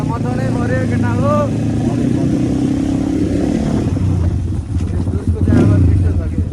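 A motorcycle engine revs hard and clatters as its silencer pops and bangs, loud and close, with people talking over it throughout.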